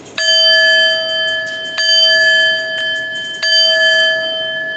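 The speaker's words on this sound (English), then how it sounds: "We're chiming out." Meditation chime struck three times to close a session, each strike a clear sustained metallic ring with bright harmonics, loud and close, the next strike landing as the previous one still hums, with no talking.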